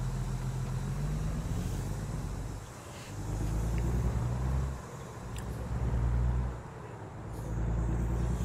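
A heavy truck engine in American Truck Simulator rumbles steadily as the rig pulls away, with low-pitched drone rising and dipping in waves over several seconds, close and continuous, no talking.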